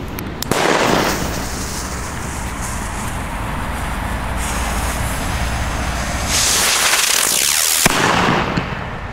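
An Xplode Smoke Bird smoke firework fizzes and hisses loudly, with a sharp pop near the start and a rising burst of crackling later as it explodes, close by and continuous.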